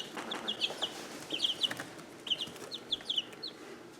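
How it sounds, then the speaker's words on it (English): Chicks in a coop give repeated high, thin peeps and soft clucks in short scattered bursts, faint and fairly close, over a quiet background with no talking. "we'll have a look at our little chickies"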